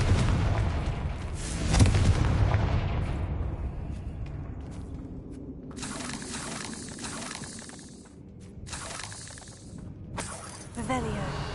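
A Confringo fire spell bursting in the wizarding game Hogwarts Legacy: a loud, fiery blast up front that trails into crackling, shattering debris and rumbling aftershocks, with a voice and other game sounds mixed in.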